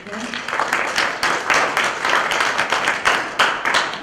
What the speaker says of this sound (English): I just want to give a round of applause to Dr. Harlow, Dr. Jackson, and Ms. Rose for